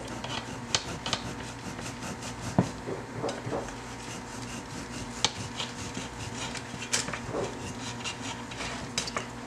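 A serrated knife saws around the top of a cake sitting in its pan, leveling it; soft repeated rasping and scraping strokes with occasional sharp clicks of metal against the pan, close and steady, with no talking.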